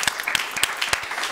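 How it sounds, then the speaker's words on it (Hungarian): Applause from a studio audience: short, bright bursts of many hands clapping, with a few louder individual claps standing out, lasting just over a second. "Most kérnék egy tapsot."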